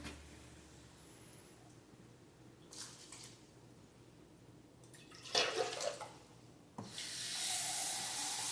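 Water poured into a pan to make pickle brine, starting as a faint trickle and building into a steady, louder rushing pour near the end.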